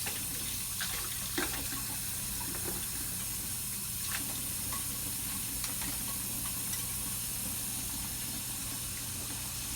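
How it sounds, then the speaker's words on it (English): Tap water runs steadily into a sink to rinse an endoscope during reprocessing, a faint continuous hiss and splash without talk. "So I'm going to rinse off the scope."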